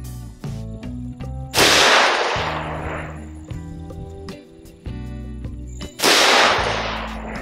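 A Glock 40 MOS 10mm longslide pistol with a red dot sight fires two loud, sharp shots several seconds apart, each followed by a ringing decay, against a steady tonal background hum.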